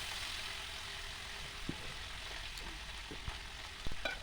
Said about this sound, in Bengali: আমার কড়াই পুরো গরম হয়ে গেছে এবার আমি মাছগুলো দিচ্ছি